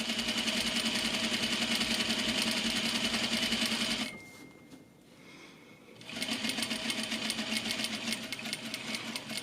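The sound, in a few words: sewing machine stitching a zipper into a garment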